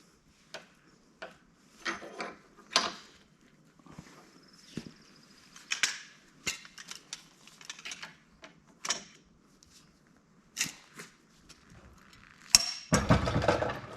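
Lug nuts are tightened and torqued on a 1977 Mustang wheel after a five-lug conversion, with a series of sharp, irregular metallic clicks and clacks spread over several seconds, close up and alone, ending in a louder rattling burst.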